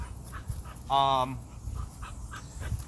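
A short, high whimper from an excited, affectionate dog, close by, comes between soft panting breaths while a person talks.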